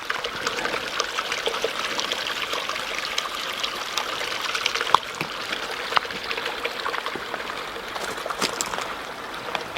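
Water trickles and splashes at the base of a waterfall in the Utah outdoors, a steady, moderately loud babbling stream sound with no voices.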